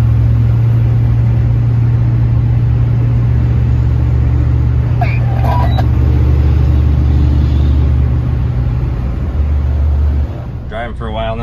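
A vehicle on the road towing a new trailer, a loud, constant low engine drone and road rumble filling the cab for the whole stretch, easing slightly near the end, with a voice talking over it.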